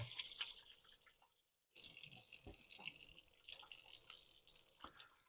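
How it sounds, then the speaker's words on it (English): Hands are washed under a running kitchen tap, a quiet hiss of water with small splashes and drips, broken by a short silent gap before the flow resumes, faint and close, no talk. "give my hands a wash real quick"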